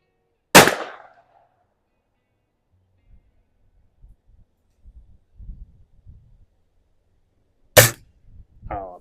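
Diana model 34 T06 air rifle fired at an outdoor range, two sharp close cracks several seconds apart, with faint handling noises and soft low thumps between them.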